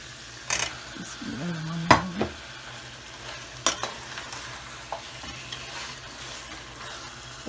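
Goat meat sizzles and fries in a pot, with scraping stirs and a few sharp clinks of a utensil against the metal, fairly quiet and with no talking.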